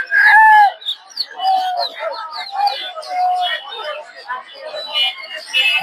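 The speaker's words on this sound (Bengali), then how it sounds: "দর্শক দেখতে পাচ্ছেন অনেকগুলো দেশি মুরগি" Several native hens cluck and call at a poultry market in Tongi, Bangladesh, over a busy background of chatter, with bird sounds overlapping continuously and fairly close.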